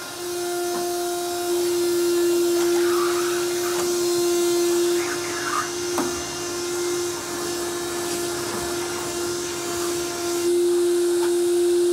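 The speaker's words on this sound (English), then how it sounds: "vacuum the carpets" A vacuum cleaner runs on hotel room carpet, a loud continuous motor whine and airflow drone holding steady throughout, with small changes as it moves across the floor.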